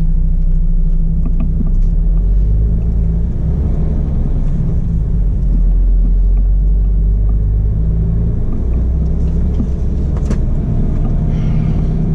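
A truck loaded to the roof with steel framing drives along, its engine rumbling low and steady with road noise throughout, close and loud with no talk.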